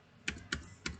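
Keystrokes on a computer keyboard while entering a password on a login page, three or four soft, distinct taps spaced unevenly over about a second, quiet and close with no talk.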